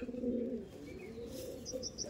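Andhra pigeons coo softly in low, rolling murmurs, close by but quiet, followed by a few thin chirps near the end.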